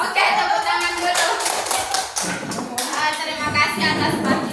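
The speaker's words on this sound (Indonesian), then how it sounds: "Oke, tepuk tangan dulu." A group of teachers at an elementary school workshop claps together, with loud sharp hand claps coming in bursts and voices running underneath.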